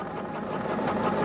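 A home sewing machine bought in 2008 runs steadily, its motor and needle producing a fast, even mechanical whir without pause, close up with no talk.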